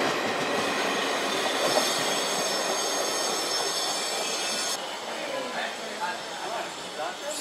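A double-decker train leaving Navsari rumbles steadily with a high metallic wheel squeal ringing over the broadband noise, heard from nearby on board or at the platform.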